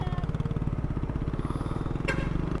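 A motorcycle engine idling or running close by, a loud, steady rapid pulsing throb throughout, with a short sharp clank near the end.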